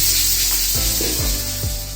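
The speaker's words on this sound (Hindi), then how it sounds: "ग्राइंड करके जो मसाला हमने तैयार किया है उसे हम ऑयल में शामिल करके भून लेंगे।" Ground spice paste for mutton korma hitting hot oil, a sharp hiss and sizzle with a few dull knocks, loud and brief, under a low hum.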